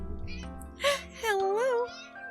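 A black cat meows in a short rising-and-falling call, close and fairly clear, with a softer earlier mew; a voice talks quietly around it.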